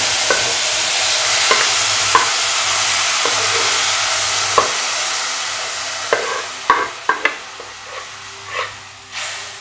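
A steady sizzling hiss fills the pan as a spatula stirs and scrapes boiled bamboo shoots, the knocks coming quicker and louder toward the end.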